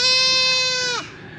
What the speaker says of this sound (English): You can hear the goats a little bit in the background.